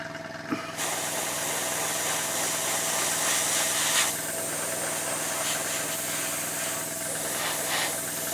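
Steady, loud airbrush hiss from spray painting a Trumpeter M1133 Stryker MEV model kit, continuous for several seconds after a brief start, with small swells as the spray passes over the sides and rear.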